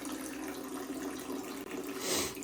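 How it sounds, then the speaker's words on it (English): Water draining out of an engine block after one bolt is removed, a steady close splashing trickle that swells briefly near the end, no voices. "There's a lot more water in this block than I realized. One bolt out and she's draining."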